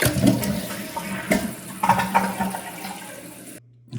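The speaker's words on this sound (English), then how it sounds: "And this is the water right here that actually fills up inside the bowl." A toilet bowl with a low water level refills, water gushing and gurgling into the bowl in uneven surges before the flow tapers off and goes quiet near the end. No one talks.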